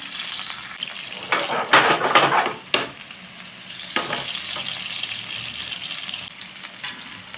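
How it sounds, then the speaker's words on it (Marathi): Pieces of paneer hit hot oil with a burst of crackling sizzle, then a steady frying hiss continues close by. "आपण त्याच्यात पनीर घालूया पनीर आपल्याला गोल्डन फ्राय करून घ्यायचं"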